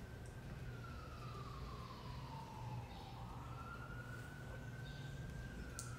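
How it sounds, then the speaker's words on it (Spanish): An emergency vehicle siren passes outside a home in New York, a faint distant wail that slides down and then climbs again beneath a steady indoor hum. "la sirena aquí, es que más sirena pasa"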